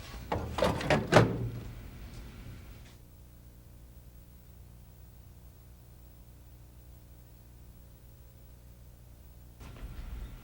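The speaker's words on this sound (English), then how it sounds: "Then close the front door." Front door of an Apple Color LaserWriter 12/600 PS laser printer being shut after toner cartridges are installed, a close plastic clatter and thump in the first second or so, followed by quiet room hiss with a faint knock near the end.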